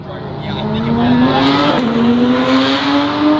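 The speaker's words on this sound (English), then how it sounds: "Oh, they're racing today." Exotic supercars such as a Bugatti Chiron and Ferrari 296 GTB race past at a car meet, loud engines sweeping upward in pitch as they accelerate, with a rising whine and crowd noise underneath.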